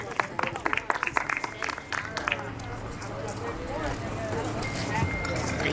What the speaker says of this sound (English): All right, give her a round of applause right there.